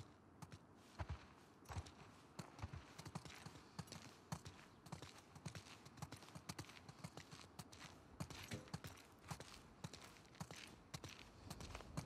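Horse hooves in The Last of Us Part II clop in an even, repeated walking rhythm, crisp and close, with little talk over them.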